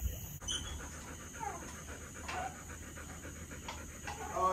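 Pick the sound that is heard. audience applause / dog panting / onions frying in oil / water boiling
dog panting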